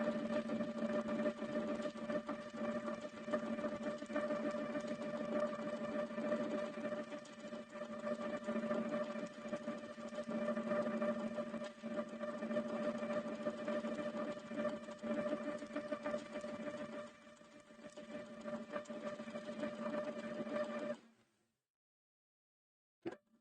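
A sewing machine runs in a long, steady whir while free-motion quilting, its needle chattering continuously for about twenty seconds before stopping abruptly into silence.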